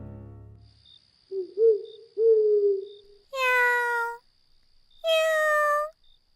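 In a Korean audiobook, a boy outside a window at midnight imitates a cat's meow, giving two short mewing calls followed by two longer, louder drawn-out meows, heard alone with no narration.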